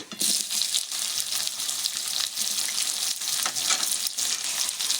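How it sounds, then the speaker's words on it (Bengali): Chopped onions fry in hot oil with bay leaf and whole cumin, giving a steady, loud, close sizzle that runs without pause and carries no speech. "পেঁয়াজগুলো আধ ভাজা হয়ে গেছে"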